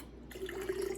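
Bone broth is poured through a strainer into a cup, a steady, close trickle of liquid that starts after a brief pause and keeps running, fairly soft and unaccompanied by voices.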